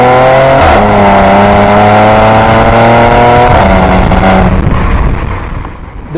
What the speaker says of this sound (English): This example is not equipped with a sports exhaust, but from the outside it sounds pretty good, without being vulgar at the same time.